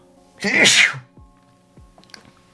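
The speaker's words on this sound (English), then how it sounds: "It's gonna make me sneeze" A single loud, close sneeze, followed by a couple of faint sniffs and small sounds in a quiet room.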